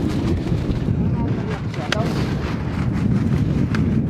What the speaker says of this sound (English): We're off to a little bit of a rough start with the wind and the rain